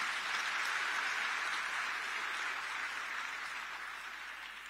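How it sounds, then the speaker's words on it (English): A congregation at an Evangelical Fellowship of Zambia 60th anniversary gathering claps in a dense, continuous wash that fades slightly toward the end, with no talk over it. "I think they deserve a clap from all of us"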